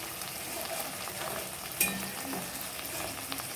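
Dry spices such as ground coriander fry in a pan for dhaba-style tarka, giving a soft continuous sizzle close by with a brief sharp clink of stirring midway.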